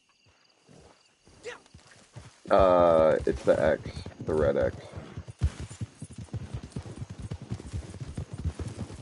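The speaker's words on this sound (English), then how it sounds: "Here, I'm gonna hop on your horse." Horse hooves clip-clop in the Red Dead Online Wild West game, a rhythmic trotting that runs under close voices talking.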